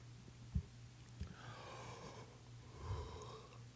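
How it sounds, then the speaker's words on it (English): A person yawns at the close of a long live talk show: a faint, drawn-out breathy yawn with a soft voiced sigh, set against a low steady hum and a few light knocks. "I don't know why I'm yawning."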